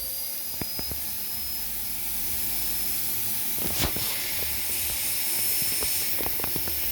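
A Lindhaus HF6 vacuum cleaner runs a suction airflow test, putting out a steady hiss with a faint high whine, broken by scattered clicks and handling knocks up close.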